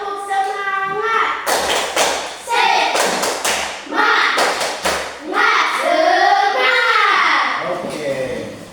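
A classroom group claps a rhythmic cheer together, bursts of many hands striking in patterned runs close by, with children's voices chanting and calling over the claps.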